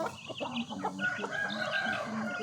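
Young chickens about four to five months old cluck and call close by in a chattering cluster of overlapping short calls during cool windy weather, with a few higher, crowing-like notes mixed in.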